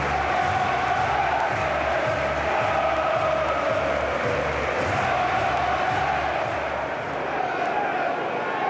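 A dense football crowd roars and chants steadily at a Huddersfield Town match, a loud continuous wash of voices with a rhythmic low chanting pulse throughout.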